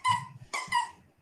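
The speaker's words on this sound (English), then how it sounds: "That's a dog toy." A squeaky dog toy gives three short, bright squeaks, the first drawn out, the last two close together, fairly near over a low room murmur.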